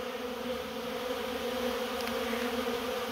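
Honeybees buzz continuously near a hive during a spring inspection, a steady dense hum of many wings, close and even throughout with no talking.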